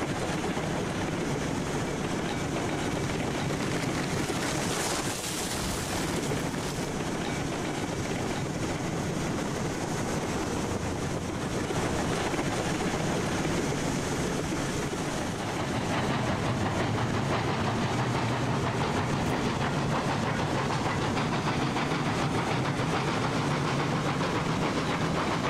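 A train in the game Railroads Online rolls steadily along the rails on a run from a logging camp to a smelter, a continuous broad rumbling wash that holds for a long stretch with no talk.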